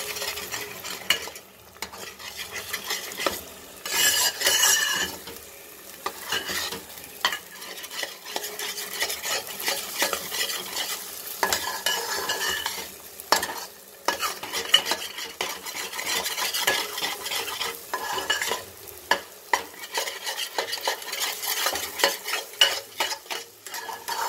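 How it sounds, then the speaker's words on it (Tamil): Eggs stirred steadily in a pan over a high flame for egg pasta, with a busy broadband sizzle and scraping strokes from a spoon running close and continuous throughout, no voices. "ஹை ஃப்ளேமில் வச்சுட்டு கிண்டிகிட்டே இருக்கேன்"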